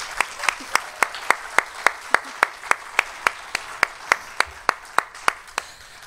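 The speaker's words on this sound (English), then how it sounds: "Let us take a moment to give applause to all the students who have received awards tonight." Clapping at a college communication awards evening, honouring award-winning students: a single, close, evenly paced run of sharp claps, about three per second, continuing steadily with no crowd swell.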